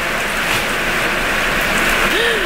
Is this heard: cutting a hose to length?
no